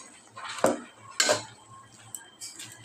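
A spoon clanks against a metal pot while mung dal is stirred together with fried potatoes, two sharp scraping knocks standing out over quieter clinks, with no talk.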